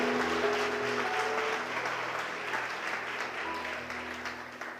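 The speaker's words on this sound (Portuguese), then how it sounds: "Você pode aplaudir o Senhor?" A church congregation claps together in sustained, dense applause that fills the room, tapering slightly toward the end, with faint voices and tones mixed underneath.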